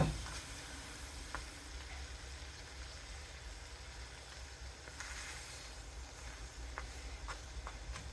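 A pepperoni pizza quesadilla crisps in a hot pan, giving a steady close sizzle and crackle that runs throughout with small pops and no talking.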